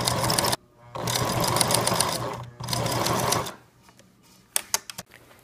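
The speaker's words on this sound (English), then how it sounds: "then we're going to run a line of stitching across the side of the mask." Sewing machine running a line of zigzag stitching across the side of a fabric hospital mask, in two sustained whirring bursts separated by brief pauses, followed by a few sharp clicks at the end, close and loud.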